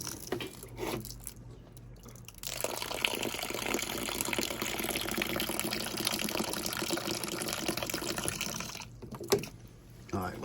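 Water is poured steadily onto potting mix to wet it, a continuous splashing, trickling rush that runs close and fairly loud for several seconds before stopping.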